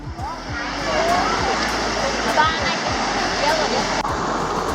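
A hot-spring stream in Krabi, Thailand, flows over slippery limestone toward a pool, giving a steady, close, full rushing wash of water that holds constant throughout.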